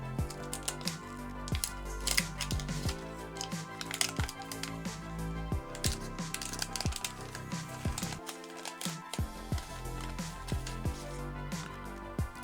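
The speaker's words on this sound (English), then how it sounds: "I'm gonna open up one of these packs of Donkey Kong cards that I got" A pack of Donkey Kong trading cards is torn open close up, producing irregular crisp crackles and sharp clicks of wrapper, scattered across several seconds with one brief pause.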